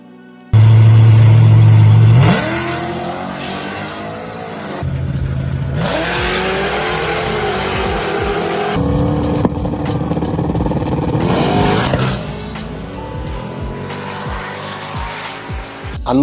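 A car with a 6.2 LS3 V8 roars loudly up close, revving hard and accelerating through several surging pulls over about sixteen seconds, with a possible hint of tire squeal.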